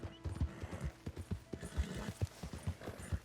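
Horse hooves clip-clop steadily at a walking gait through a forest in the video game Red Dead Redemption 2, close and fairly loud, with occasional soft snorts and no talking.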